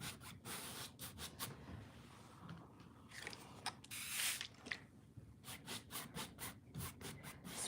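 Water is spritzed from a spray bottle onto a painting canvas, bursts of fine hissing spray in quick repeated pumps, near and fairly quiet, mixed with soft rubbing brush strokes on the surface.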